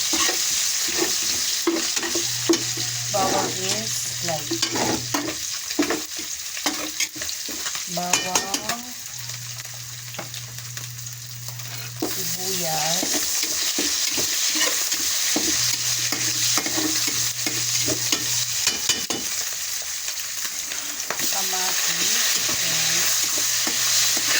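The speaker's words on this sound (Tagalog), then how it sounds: "Gigisa-gisa na lang natin to guys. Unahin natin yung bawang." Garlic sautés in a pan for miso sinigang with a steady sizzle and occasional stirring scrapes, while a low steady hum recurs in the background.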